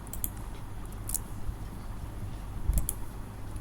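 Fast computer keyboard typing while HTML code is written, a quiet steady patter of key clicks with a few brighter taps, heard close and alone with no talk.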